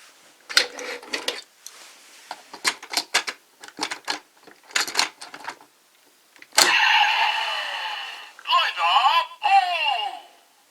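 A Kamen Rider Drive Lupin Gunner toy blaster with a Viral Core attached is triggered. A series of sharp mechanical clicks leads into loud electronic voice callouts and a generic blasting effect, heard up close.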